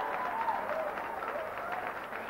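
Crowd applauding at a squash match at the 1992 Junior World Championships in Hong Kong: a steady, dense wash of clapping that holds at an even level for the whole stretch.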